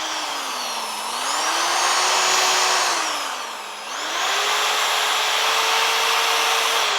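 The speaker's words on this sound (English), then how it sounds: "Now just let the drill do the work here." A power drill whines steadily and close, its pitch dipping twice under load before rising again, with no voices, during restoration work on a Dodge Charger.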